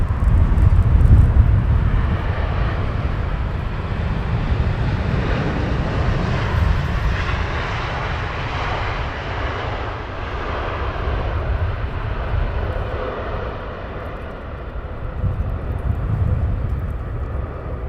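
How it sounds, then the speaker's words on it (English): Air India airliner taxiing at Heathrow Airport, a steady loud jet engine roar holding throughout with broadband rumble, no voices. "The Air India taxiing down."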